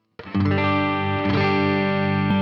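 An electric guitar on its middle pickup strikes a single chord that sustains evenly with a faint chorus shimmer, played alone and fairly loud.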